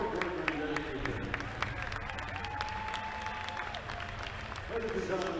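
Audience applause for high school basketball teams and coaches at a team event, steady clapping from a crowd filling the room with some background chatter.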